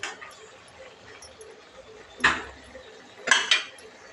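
A utensil stirring chicken gravy with tomato and turmeric in a pot gives two sharp metallic scrapes and clinks against the pot over faint background noise.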